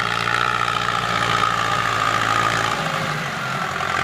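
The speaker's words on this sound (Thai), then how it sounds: "มันเป็นเอกลักษณ์ของฟอร์ดนะครับที่เป็นเสียงแบบนี้นะครับ" A Ford 7610 tractor engine idles steadily in a flat rice-field setting, a continuous low rumbling drone with a constant throbbing rhythm, close and fairly loud throughout with no talking.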